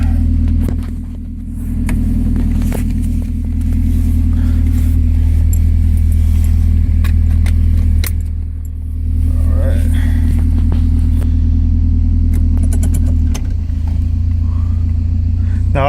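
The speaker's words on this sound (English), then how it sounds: "Now I just always put it in first gear, then I drive up to second, third" A Datsun 200SX S110 with a 3-speed automatic transmission drives along with a steady, loud engine rumble. The engine note dips briefly twice as it changes gear, and a voice talks over it from inside the cabin.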